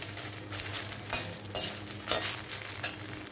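Dried red chilies, curry leaves and asafoetida roast in a pan, making a soft crackling sizzle broken by several scraping stirs of a spoon, fairly quiet and close, with no speech.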